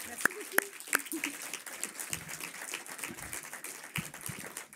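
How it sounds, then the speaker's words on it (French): An audience at an awards ceremony applauds, a scattered spread of clapping hands heard at moderate level with a few sharper individual claps and some voices mixed in. "je voudrais que vous applaudissiez Sabrina"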